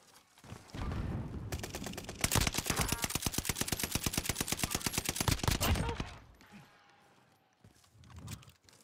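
Rapid automatic gunfire from a video game firefight at a cluster of houses, a long sustained burst of evenly spaced shots after a few scattered rounds, loud and close, then trailing off into quieter ambience.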